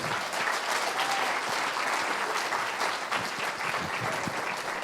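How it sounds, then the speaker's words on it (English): An audience at a conference panel discussion applauds the panelists with steady, dense clapping that holds evenly for about five seconds at moderate loudness, with no talking over it. "let's just give another round of applause to our panelists right here."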